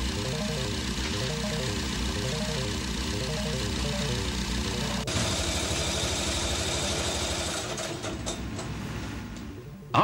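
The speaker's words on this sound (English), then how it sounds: "completed engine is run for 30 minutes in the test cell to check that it conforms to every specification" A David Brown tractor engine runs steadily in a factory test cell, giving a continuous mechanical drone with a cyclic pulsing beat. The tone shifts partway through, and the sound stays loud and close throughout.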